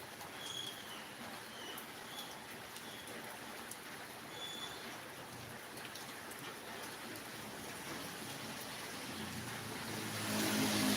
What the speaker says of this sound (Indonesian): Di sini juga hujan Kak Tini, beberapa hari ini hujan terus.